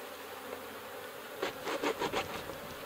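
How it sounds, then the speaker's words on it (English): Ball of beeswax rubbed against wax beehive foundation, heard as four or five short, close scuffing strokes in a quick rhythm over a steady outdoor background hiss. "And I'm rubbing it on this foundation to make that foundation smell more like wax"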